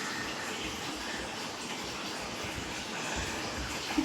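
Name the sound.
water running while washing henna out of hair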